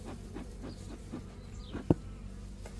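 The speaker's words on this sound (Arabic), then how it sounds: "ندخن النحل اول بداية" Honeybees hum at a hive that is being smoked, a steady low buzz with a few louder passes from nearby bees and one sharp brief knock partway through.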